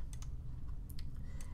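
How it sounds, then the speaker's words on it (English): Quick clusters of computer keyboard keystrokes made while digitizing an embroidery design in PE Design 10, soft clicks in short bursts over a low steady hum. "Now I'm doing all this on the keyboard."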